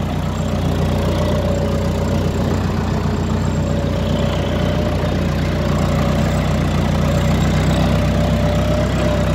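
A tractor engine runs steadily at low throttle while pulling through a firm field for a pistachio planting, a loud, continuous rumbling drone without pauses or speech.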